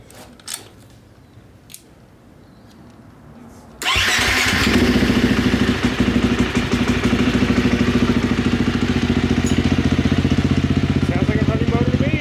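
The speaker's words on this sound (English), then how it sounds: "Sounds like a running motor to me." A KTM 350 EXC-F dirt bike engine, freshly rebuilt at the top end, starts after a few quiet seconds of faint talk and then runs loud and steady with a sustained throbbing idle that fills the rest of the clip.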